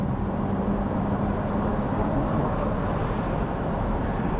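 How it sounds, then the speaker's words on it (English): Diesel truck engine heard from a passing BMW Z4 sDrive23i during an overtake, a steady, loud low rumble with road and wind noise that holds evenly throughout. "all you can hear is the noise of that diesel engine"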